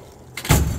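A speed drawer on a Snap-on KRSC430 split-top roll cart slides open, giving a short, close rolling whoosh with a faint metallic rattle that builds into a louder rumble at the end of its travel.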